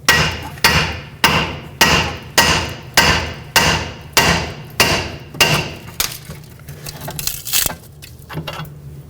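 Repeated hammer blows knock a ball joint stud free from the steering knuckle of a 2012-2017 Toyota Camry's front lower control arm: about ten loud, evenly spaced metallic strikes, followed by lighter clanks and handling noise.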